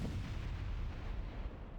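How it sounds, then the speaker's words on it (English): A high-energy Sword of Light blast from the video game Blue Archive makes a loud, dense, rumbling roar that holds steady for under two seconds, deep and booming like heavy artillery. "High energy ejection from the Sword of Light"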